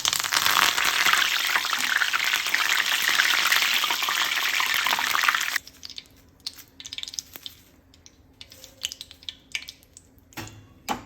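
Curry leaves hit hot oil for an ivy gourd fry with a loud, dense crackling sizzle that suddenly dies down about halfway, leaving sparse pops, spits and faint stirring.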